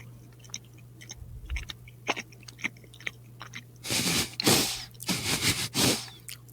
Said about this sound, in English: Can you hear the chewing?